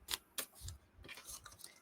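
Scissors trimming paper pages for a no-sew Christmas memory junk journal, a few quiet, close snips and rustles of paper over about two seconds.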